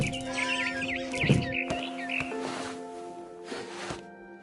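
A barn swallow chirps in quick, high twittering bursts in What Remains of Edith Finch, the calls close and fairly clear over a steady ambient game hum, with a soft thump partway through.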